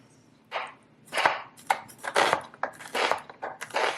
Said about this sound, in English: I am going to dice just because some of the soup won't be blended, so I don't want anybody to get a big chunk of onion